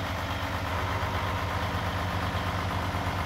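A 2006 Freightliner Classic semi truck idles close by, a steady low diesel rumble with an even, pulsing throb that holds unchanged throughout, no voices present.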